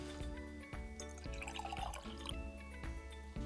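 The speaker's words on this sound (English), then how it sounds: "Now, let's rinse the fossils in some water." Water drips and trickles in quick irregular splashes as small Japanese candy fossils from a DIY dig kit are rinsed, close and fairly quiet, with a faint background hum.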